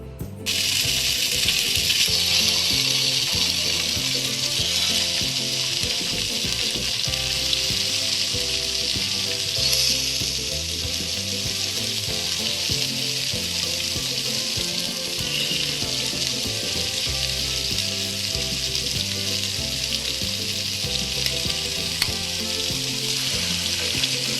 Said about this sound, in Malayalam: അപ്പം പാൻ ചൂടാ ചൂടായിട്ട് അതിലേക്ക് നമ്മളിപ്പോൾ വെളിച്ചെണ്ണ ഒഴിച്ചിട്ടുണ്ട് ഇനി മീൻ വെച്ചു കൊടുക്കാം